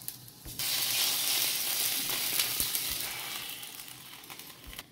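Garlic tadka poured into a pot of dal bursts into a loud, close, steady sizzle that hisses on for several seconds after a sudden start, with a few small clicks scattered through it.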